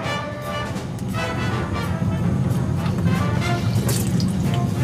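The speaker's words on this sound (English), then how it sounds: "I'm going to go behind it and let the tranny drain out and get my hands wet." Transmission fluid draining out from under a car and splashing over hands, a steady loud liquid pour with dripping and trickling throughout, no talking.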